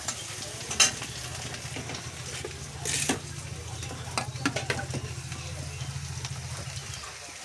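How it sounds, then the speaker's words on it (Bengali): Meat mixed with oil and spices is stirred in a hot pan, giving a steady close sizzle broken by scraping clicks of the spoon against the pan over a low hum. "মশলাপাতি মাংস আর তেলের সঙ্গে মিশিয়ে নিচ্ছে"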